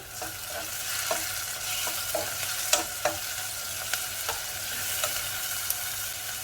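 Onion sautés in a pan with fish seasoning, a constant bright sizzle broken by periodic scraping and tapping from stirring, close and without talk.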